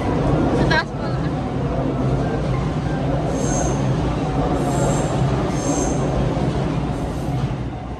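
A train passes in Tokyo, a dense steady rumble of wheels on rails with repeated high metallic squeals, people talking nearby.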